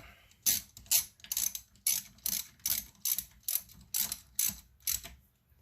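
A hand ratchet clicks in about a dozen quick, evenly spaced bursts while tightening a 14 millimeter bolt, each stroke a crisp metallic ratcheting rattle close to the listener.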